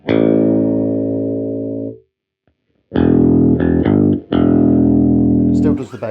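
Custom-built electric guitar on the bridge pickup with tone control full up, run through distortion and effects, plays sustained chords that ring, cut off, then return in several loud, heavily driven strummed bursts.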